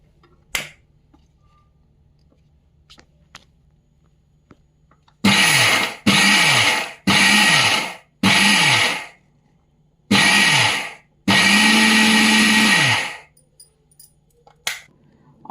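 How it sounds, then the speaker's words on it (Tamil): A mixer grinder in pulse mode, grinding for rava laddoo, whirs in six short bursts with brief pauses between them, the last burst longest, loud and close. "இப்போ மிக்ஸி ஜாரில் போட்டு பல்ஸ் மோடில்"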